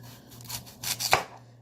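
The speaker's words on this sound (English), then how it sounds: "When you cut your potatoes, make sure you try and get them as evenly as possible" A knife chops potatoes on a cutting board, giving a few quiet, close, irregular thuds with one sharper cut near the end, over a low steady background hum.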